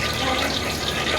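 Water pours in a kitchen during cooking, a short, close, continuous rush of splashing liquid.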